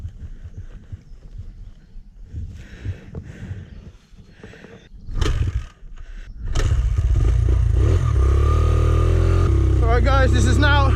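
A Honda CRF100F dirt bike gets ridden off-road: quieter scuffing and clatter at first, then the small single-cylinder engine revs up loudly and drones steadily close to the rider, with a voice briefly heard.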